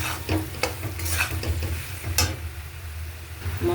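Salt, turmeric, chilli and cumin powder are stirred in a hot pan: a spoon scrapes close up in short strokes over a soft, steady sizzle of frying.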